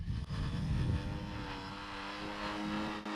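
A VTOL model aircraft flies back toward the pilot in hover mode, its electric motors giving a faint, steady whirring drone with a few tonal propeller lines and no voices.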